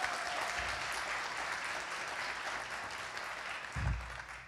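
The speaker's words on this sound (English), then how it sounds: "Can everybody give Mark a huge round of applause for putting this together?" An audience at an AI literacy summit keynote applauds Mark for organizing the event. The clapping is steady and continuous for the whole stretch, with a couple of low thumps.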